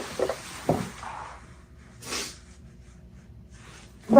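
Heavy, breathy exhalations from a man who sleeps with a CPAP machine, coming in several irregular puffs and snorts close to the microphone, then a louder rush at the end.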